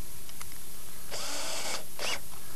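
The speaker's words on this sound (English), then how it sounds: "We'll drill one little pilot hole so that we don't split out our plate." A power drill bores a pilot hole in a log for furniture, two bursts of buzzing whine, the first longer, the second brief, close and loud over quiet room tone.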